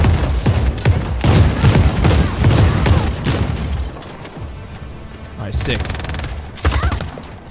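Turret fire in Just Cause 4, rapid loud bursts of booming shots and cracks in dense volleys, then a short lull before more blasts, with someone talking over the shooting.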